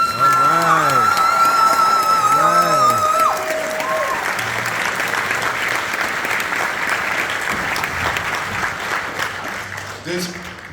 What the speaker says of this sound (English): So let's give all of these students a round of applause.